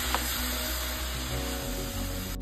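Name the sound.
ingredients being sautéed in a pan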